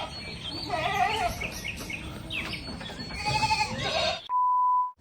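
Several close goat bleats, wavering and nasal, come in short bursts over a noisy farmyard background, with a mother goat and her triplet kids, and the sound ends in a steady electronic tone.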